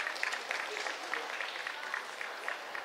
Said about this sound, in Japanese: 皆さん、新生徒会4役に激励の意を込めて拍手の方よろしくお願いします。